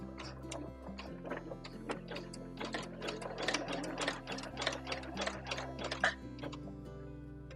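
A sewing machine stitches elastic onto the waistband of simple woven trousers, a rapid rhythmic mechanical chatter running throughout with a low motor hum that shifts pitch as the speed changes.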